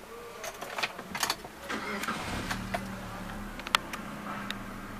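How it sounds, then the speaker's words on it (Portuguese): A 2013 Mitsubishi Pajero TR4 with a 2.0 16v flex engine cranks and fires up, then settles into a steady low idle, with a few faint clicks and handling noises over it, fairly close. "Vou ligar aqui o carro para vocês."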